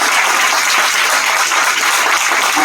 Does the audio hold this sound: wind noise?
no